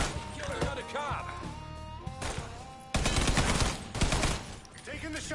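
Gunfire in the Mafia 3 video game: bursts of sharp automatic shots and heavy single blasts crackling through a chaotic firefight, loudest in a dense volley midway, with game voices and shouting mixed throughout.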